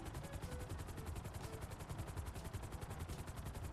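A game helicopter from GTA roleplay thumps with a rapid, steady rotor chop throughout, quiet and continuous, without any voices.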